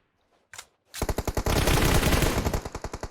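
Automatic gunfire rattles in PUBG Mobile. One early shot is followed by a loud, rapid burst of close shots that runs for about two seconds, then tapers off into spaced final rounds. No talking is heard.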